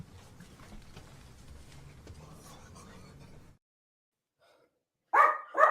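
A dog gives two loud, sharp barks close by, following a stretch of low, quiet talking and a brief silence.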